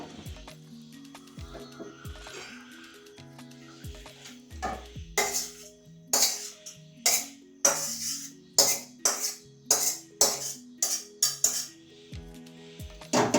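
Boiled mung dal is transferred from a cooking pot into another bowl. A spoon scrapes and clinks against the metal in a quick, regular series of sharp knocks after a quieter start.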